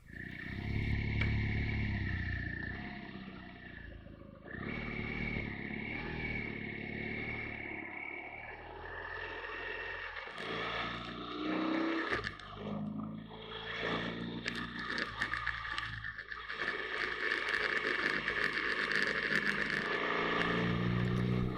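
A motorcycle lapping the TT Assen circuit behind an instructor on an advanced rider class, engine droning and rising steadily through the lap with wind roar over it, loud and continuous.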